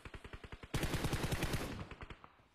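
Automatic gunfire in the PUBG battle royale game rakes a vehicle during a competitive match, starting as steady rapid bursts, then swelling into a dense, loud fusillade of overlapping shots before tapering off.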